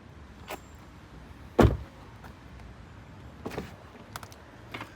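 A single solid car door thud from a 2024 Tesla Model 3 Performance, European spec, near the middle, with a few fainter clicks and knocks before and after in a quiet setting.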